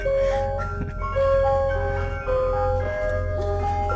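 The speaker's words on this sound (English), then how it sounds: "That's the local ice cream truck machine right there." An ice cream truck plays its jingle, a clear melodic chime tune ringing out over a steady low rumble of traffic or engine noise, fairly close and loud.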